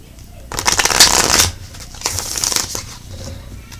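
An oracle card deck, the Moonology set, is shuffled close by in two quick riffling bursts of crisp papery flutter, with a soft rustle between them and a quiet room behind.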